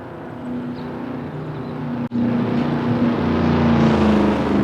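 A retro Corvette's engine in a driving video game hums with a steady tonal drone, briefly cutting out midway before returning and building slightly louder.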